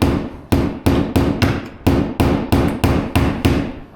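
Ten sharp hammer blows on a nail, punching a pilot hole for drilling during a Detroit house renovation, struck in a steady rhythm about every half second, close and loud with no talking.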